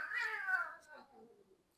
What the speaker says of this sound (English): the cats are going to drive me crazy